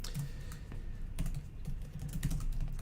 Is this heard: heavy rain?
no